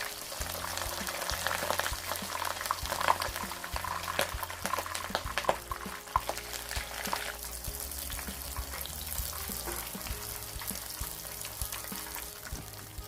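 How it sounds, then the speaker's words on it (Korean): Battered shrimp frying in hot oil: a continuous bubbling sizzle with crackles and splutters, steady and fairly close, and a low hum beneath it. "새우를 노릇노릇하게 해서 기름기를 잘 빼주시고요."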